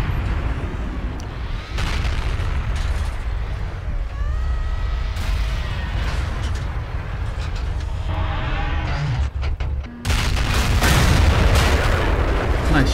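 Heavy tank cannon shots and explosions in World of Tanks boom over a constant loud rumble of engines and battle. A strong blast lands near the end, with other impacts scattered through the clip.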